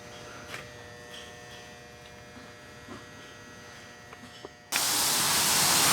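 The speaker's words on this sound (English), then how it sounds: "I'm going to weld the side." Arc welding along the side rail of a compact car being prepared for a demolition derby: a low steady hum, then a loud, harsh, continuous crackling hiss that starts abruptly and holds close up.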